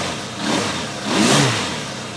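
A Suzuki GSX1100G motorcycle engine being troubleshot revs up twice in quick succession, swelling and easing as the throttle is blipped, near and fairly loud with a rough mechanical rumble, no talk.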